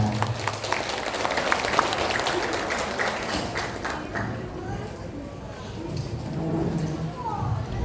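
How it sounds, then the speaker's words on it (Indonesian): An audience at an Islamic parenting seminar claps to welcome the coach onto the stage, with scattered, fairly close claps at first that thin out and fade, and talking mixed in toward the end. "Silakan tepuk tangan untuk Coach kita"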